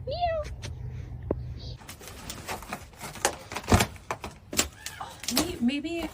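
Several small kittens give brief, high meows scattered through the clip, some close and some fainter, while someone talks to them warmly over rustling and handling noises.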